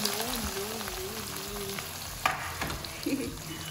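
Onions hiss and sizzle in a hot pan for a chicken dish, a steady fry with a stirring scrape and a few clinks, no talking.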